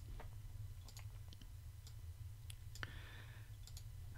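Sharp, quiet computer mouse clicks come one at a time in an irregular run during design work on a cardstock cutout, set over a steady low hum.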